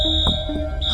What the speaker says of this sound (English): Which alarm is that?